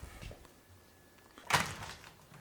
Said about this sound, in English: Now we open the door